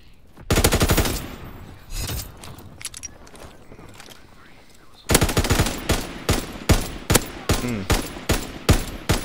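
Light machine gun fire in the video game Call of Duty: WWII: scattered shots and battle noise at first, then a loud, rhythmic run of close, evenly spaced bursts.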